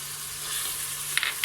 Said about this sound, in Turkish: Onu da şöyle bir dakika kadar diğer malzemelerimle birlikte kavuracağım